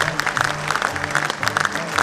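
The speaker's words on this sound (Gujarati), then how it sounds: "આપ સૌ આપની બેઠક ઉપર ઊભા થઈ તાળીઓથી મુખ્યમંત્રીશ્રીને આપણે ખૂબ ખૂબ અભિનંદન આપીએ" A standing audience at an official event applauds the Chief Minister with steady, dense clapping throughout.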